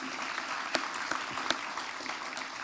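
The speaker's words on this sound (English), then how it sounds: "How about giving them a round of applause for being with us this morning?" Morning audience at a civic event applauding, moderately distant steady clapping with a few sharper individual claps standing out.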